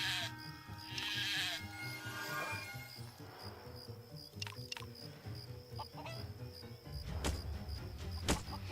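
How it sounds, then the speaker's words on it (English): Sheep bleating in the video game Craft the World, a couple of short bleats among mixed game sounds, clicks and background music, moderately loud with no talk over them. "And there's 2 sheep"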